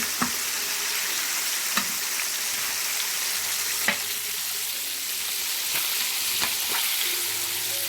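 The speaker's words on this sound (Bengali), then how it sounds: "বাকি উইন্সগুলোও সেমভাবে ফ্রাই করে নেব" Chicken wings for naga wings fry in a pan with a steady, dense sizzle throughout, broken by a few sharp clicks and pops of a utensil against the pan, with no one talking.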